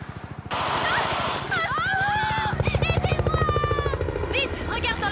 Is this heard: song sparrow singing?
no